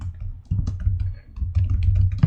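Computer keyboard typing while entering a Node.js HTTP request, a run of close, uneven key clicks with short pauses, no voices.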